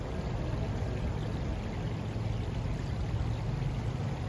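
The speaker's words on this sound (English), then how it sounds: "Lots of running water." Office-building fountain on the Tokyo Takeshiba waterfront, a steady, dense rush of running and pouring water, loud and close, constant throughout with no talking.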